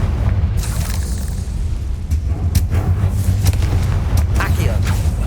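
A Confringo fire spell explosion in the video game Hogwarts Legacy, a loud booming blast over a continuous rumbling game soundscape, with a few sharp impacts on top and no one speaking.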